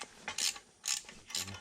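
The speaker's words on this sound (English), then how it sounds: "So now I'm going to unscrew them." Screws being unscrewed from a snowmobile's TEAM secondary clutch, heard as three short, close ratcheting clicks spaced about half a second apart, quiet, with no talking.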